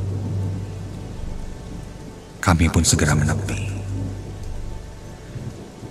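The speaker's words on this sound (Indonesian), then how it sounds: "berubah seketika menjadi hujan yang cukup lebat" Heavy rain pours steadily in a horror radio drama, broken near the middle by a loud, crackling thunderclap. A narrator speaks over the storm.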